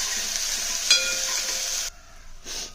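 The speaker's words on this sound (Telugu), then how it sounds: "ఒక్క స్పూన్ అల్లం వెల్లుల్లి పేస్ట్ వేసి ఇది కూడా పచ్చి వాసన పోయిన దాకా బాగా వేయించాలి" Ginger garlic paste sizzles steadily in a hot pan with fried onions, a loud even hiss with a brief stirring clatter, then dropping away for a moment before resuming.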